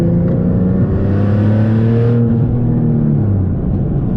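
A single-turbo Nissan 370Z Nismo accelerates hard in third gear, heard loud and close from inside the car. The engine note climbs steadily with a whirring turbo layered over the exhaust drone.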